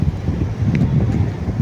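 Wind blows at sea, a low buffeting rumble against the microphone, close and steady over the brief span with no talk.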